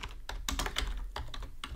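Quick, light keystrokes rattle on a computer keyboard while a macro for Excel and Google Sheets is typed in, a close, irregular burst of clicks with no talking.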